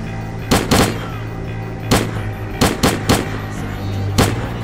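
Gunfire in the shooter game S.T.A.L.K.E.R.: Clear Sky, loud sharp shots near the player in a swamp area, with single reports and quick pairs spaced irregularly over a low steady background hum.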